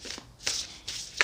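Oracle cards being shuffled by hand, a few quick papery riffling bursts close up with no talk.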